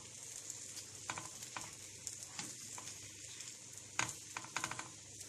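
Pumpkin pancakes fry quietly in a pan with a soft continuous sizzle, broken by occasional scraping and clinking as they are turned over.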